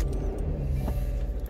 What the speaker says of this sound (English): It's a Subaru, they're noisy when they start